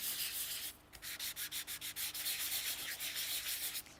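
Rapid rhythmic scratchy rubbing, close and fairly quiet, like sandpaper worked back and forth in short even strokes over embossed card.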